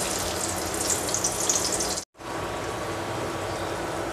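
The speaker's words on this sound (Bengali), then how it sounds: "এখন ওই তেলের মধ্যেই দিয়ে দিচ্ছি পেঁয়াজ," Sliced onion fries in hot oil left from frying eggplant, a bright, steady sizzle that cuts out briefly midway, then resumes a little softer.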